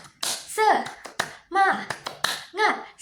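Children in a sixth-grade classroom perform a rhythmic spirit clap, sharp bursts of hand claps in a patterned beat mixed with their chanting voices, close and lively.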